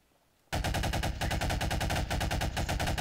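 Rapid automatic gunfire in the video game Garry's Mod, a loud, dense burst of evenly spaced shots starting abruptly after a brief quiet moment and continuing without pause.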